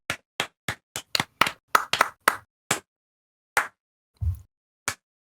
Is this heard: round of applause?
yes